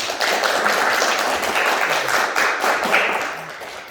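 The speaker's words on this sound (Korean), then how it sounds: "우리 응원의 박수 한번 보내도록 하겠습니다" Steady crowd applause, many hands clapping together in a dense, continuous patter that holds for a few seconds before easing slightly.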